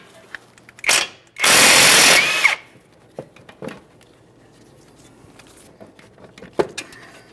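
Power tool loosening a 22mm brake caliper bracket mounting bolt on a 2009-2014 Nissan Maxima: one loud, close buzzing burst lasting about a second, with a shorter burst before it and scattered clicks and clanks of handling afterward.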